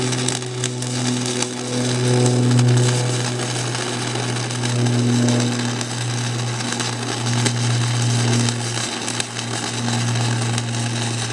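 A MIG welding arc on a first-ever weld gives a continuous close crackling buzz with a low steady hum underneath, holding fairly even throughout, and no talking.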